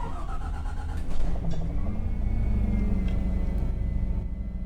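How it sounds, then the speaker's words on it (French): A gas bus engine starts in the bus simulator game OMSI 2, a loud low rumble that catches and settles into a steady idling drone. "J'adore démarrer un bus à gaz au vu du fond."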